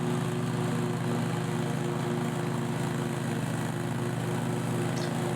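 A lawn mower works its way across a steep hillside, its engine holding a steady, unbroken drone close by.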